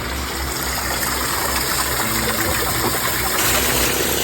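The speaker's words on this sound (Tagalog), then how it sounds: "Andyan yung water pump sa sapa." Water pump running in a creek beside a small backyard pool, a loud continuous rushing gush of water with a steady mechanical hum underneath, near and unbroken.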